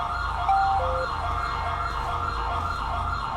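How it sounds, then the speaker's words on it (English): Ambulance siren in the video game GTA 5 with a British police mod, a steady wailing tone with a brief pitch step, sounding fairly loud over a constant low rumble of road and engine noise. "Hopefully the ambulance can make their way up here."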